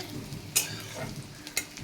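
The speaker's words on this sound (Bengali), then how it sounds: "পেঁয়াজ আর একটু আদা কুচি দিয়ে দিয়েছি এটা একটু ভাজা ভাজা হবে" Chopped onion, ginger and slit green chili fry in a pan for pasta, a close sizzle broken by a few sharp stirring scrapes.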